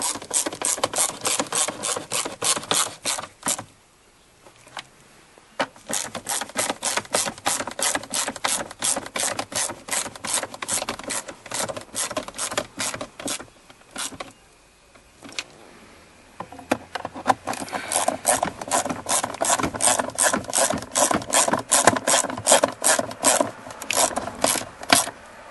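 Ratchet wrench snugging bolts during a stuck-in-park repair on a 2007 Dodge Charger, giving long runs of rapid, close clicking strokes broken by two brief pauses, with no talking.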